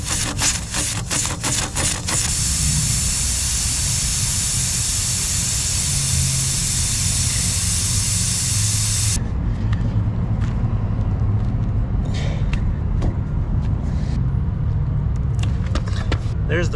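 An air compressor pumps up an RV tire past 80 psi in a Home Depot parking lot, a loud, steady hissing, chugging drone heard close and unbroken, with the hiss fading partway through and a few clicks near the start.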